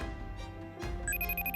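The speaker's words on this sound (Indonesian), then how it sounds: "saya angkat telepon dulu" A telephone rings in a quiet indoor room. Its electronic tone repeats in short, evenly spaced pulses that begin partway through, up close over a low hum, and nobody speaks.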